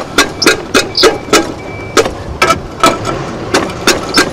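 A HYTILE tile cutter taps along a scribed tile, giving a series of about a dozen sharp, loud clicking knocks in a fairly regular rhythm, close up with no talking.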